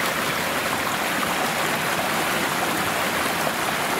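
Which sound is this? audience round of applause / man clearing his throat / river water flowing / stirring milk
river water flowing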